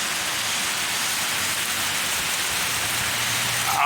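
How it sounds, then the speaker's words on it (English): Heavy rain from Hurricane Helene in Morganton, North Carolina pours in a dense, even roar that stays loud and unbroken throughout. "it's raining heavy"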